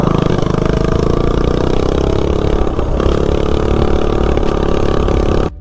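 Minibike engine fitted with a 120 main jet runs hard and loud, a steady buzzing, clattering drone close by that holds strong throughout before cutting off abruptly at the very end.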